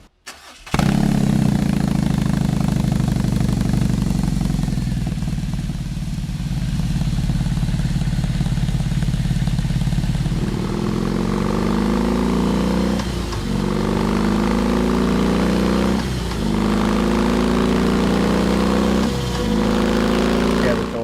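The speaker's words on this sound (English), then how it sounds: "first thing after you see a bike, fire it up. Let's hear it." A BMW R 18 motorcycle engine fires up loud and close, settling into a deep rumbling idle before several rising revs blip and fall back.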